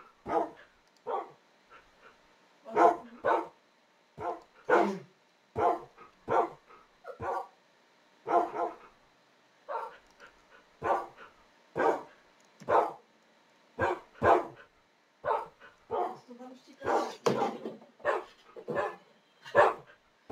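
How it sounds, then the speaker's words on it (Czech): A dog barks repeatedly in short bursts, loud and close, with brief pauses between each volley and no talking over it. "Tak, já si trošku stiším to štěkání."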